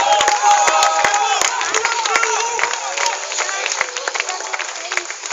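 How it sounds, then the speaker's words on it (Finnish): A race crowd cheers and shouts in a lively, bright roar with scattered claps and whistles, steady throughout, while voices call out over it. "Ja yleisö kannustaa vähän"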